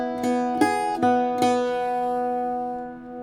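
An Irish bouzouki plays the first measure of the tune "Calliope House" as four bright plucked strums with open strings ringing between them, then a long fading sustain, close and unaccompanied with no voices.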